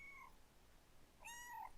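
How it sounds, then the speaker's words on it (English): A cat gives two short, faint meows, one brief and another longer and rising, close to a microphone against quiet background hiss. "she meowed into the mic"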